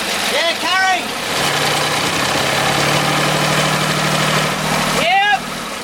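A sailboat's engine runs steadily in gear, a close, even mid-to-low drone. Voices talk over it at the start and again near the end.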